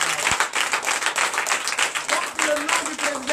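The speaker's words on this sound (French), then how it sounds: "Donnez de vives acclamations." Steady applause from a large crowd at a Sunday church service in Comè, Benin: dense and continuous clapping with a few louder bursts, fairly close.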